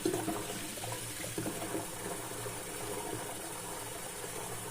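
Very hot water pours into bottles while homemade laundry detergent is being made, a soft continuous gurgling flow that stays quiet and steady, with no one speaking.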